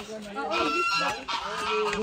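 Several geese honking close by, overlapping nasal calls in a continuous, busy chorus.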